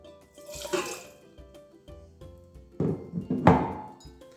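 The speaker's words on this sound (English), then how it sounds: "So first thing we're gonna do is add a little bit of water." Water splashes and trickles into a bowl in two short bursts, with soft clinks and thunks of handling between them, close and fairly quiet.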